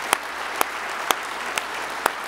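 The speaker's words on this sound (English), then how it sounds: "give the Lord a great big hand clap for that" Church crowd applause fills the background while a few sharp, louder claps ring out at a slow, steady pace.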